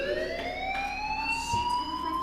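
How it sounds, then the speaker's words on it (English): A fire alarm rings in the video game Life Is Strange, a steady, moderately quiet electronic tone that holds continuously throughout, with faint background noise beneath it. "Hey, do you hear that fire alarm?"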